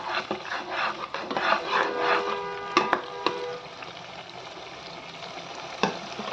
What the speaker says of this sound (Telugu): అది బాగా నూనెలో పచ్చి వాసన లేకుండా వేగాలి